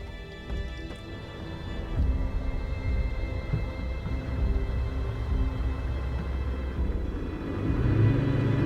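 A Ferrari F50 cruises with a low, steady engine rumble from inside the cabin, moderately loud and continuous, swelling slightly toward the end with no talking.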